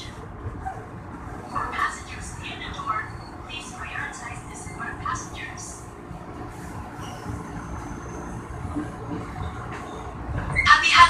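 A KRL commuter train at Depok station, a low rumbling hum with faint clanks and a brief squeal near the end, quiet and steady beneath chatter from people nearby.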